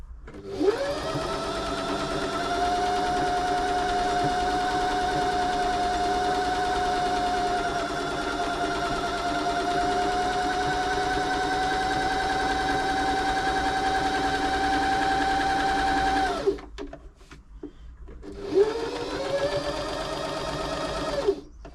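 A Janome 525s sewing machine stitching a decorative pattern runs in a long, steady, whining hum for about sixteen seconds, stops briefly, then starts again, close and alone.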